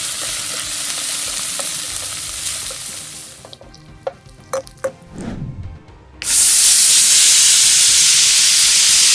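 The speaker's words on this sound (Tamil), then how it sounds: "போட்டு கொஞ்சம் அப்படியே தாளிக்கிறேன்." Spices tempering in hot oil in a pan, a loud steady sizzle that drops away into scattered pops and crackles and a stirring clatter, then surges back into a strong, close hissing fry.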